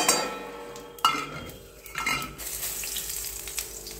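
Panch phoron spices dropped into hot oil in a kadai: a sharp clink of utensil on metal, then a brief crackle and sizzle with light stirring and scraping that settles into a soft fry.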